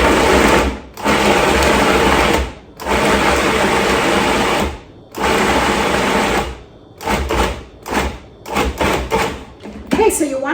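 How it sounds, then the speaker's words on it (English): A food processor chops onion and cod for Icelandic fish balls in a series of loud whirring bursts, several long runs and then short rapid pulses separated by brief pauses. "let's see what we can do here with our food processor"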